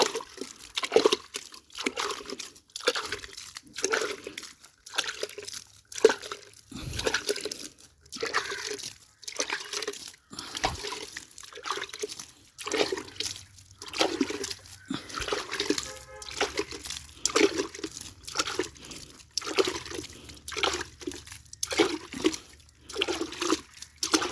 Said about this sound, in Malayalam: ചെറുതായിട്ടൊന്ന് നനച്ചു കൊടുക്കാം